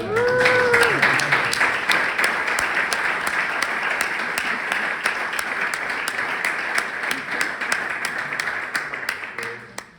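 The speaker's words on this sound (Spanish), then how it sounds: "yo pediría un aplauso para él" Audience applause breaks out at a book presentation during an international literary contest, a steady, moderately loud wash of many hands clapping for ten seconds and tapering off at the end.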